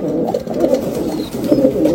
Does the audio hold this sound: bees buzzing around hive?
no